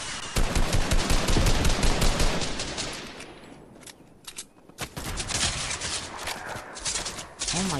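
Rapid, loud gunfire from a gun in Fortnite, a dense continuous burst up close that gives way to scattered shots and quicker volleys.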